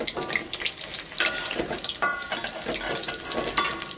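Lentil fritters (bora) frying in hot oil, a steady close crackling sizzle with scattered pops and bright spits running throughout, no voices over it.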